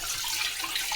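Sardines are rinsed under running water, a brief steady hiss and splash close by with no voices.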